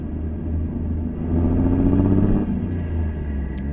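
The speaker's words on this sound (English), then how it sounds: "Listen to that motor." A Kenworth T600 truck's N14 engine rumbles low and steady up close in American Truck Simulator, swelling briefly louder mid-way before easing back to a deep idle.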